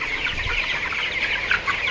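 A flock of chickens with a cold cluck and chatter together nearby, a busy continuous clucking with no talking.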